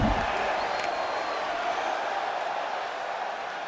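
Broad, steady roar of an arena crowd cheering in WWE 2K26, a continuous wash of noise holding at an even level throughout with no distinct voices standing out.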